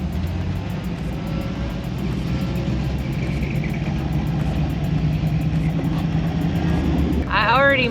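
A line of cars rolling past one after another on a road near a 1963 Datsun Fairlady, a steady continuous engine and tire rumble, fairly loud and close, with people talking over it.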